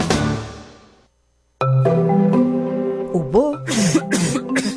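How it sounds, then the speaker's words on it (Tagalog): Coughing and throat clearing from a person, a harsh burst followed by a pause, then several rough coughs with voiced tones mixed in, fairly loud and close. "Ubo,"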